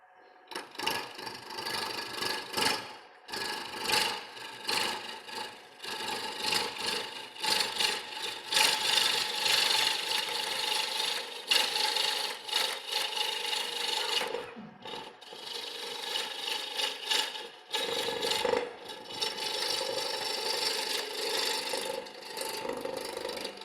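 A smaller bowl gouge cuts wood on a lathe while turning a square bowl, giving a continuous dense scraping and ratcheting chatter that pulses as the corners pass, broken by short pauses, with no talking.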